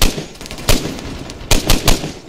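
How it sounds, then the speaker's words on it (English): Machine gun fire in the military video game Arma 3 Antistasi: short loud automatic bursts crack out, one early and a cluster of three near the end, over a steady background of distant battle noise. "He has an MG there."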